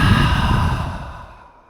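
One long breathy exhale out of the mouth during a yoga sun salutation, close and fairly loud. It fades smoothly to quiet over under two seconds, with no talking over it.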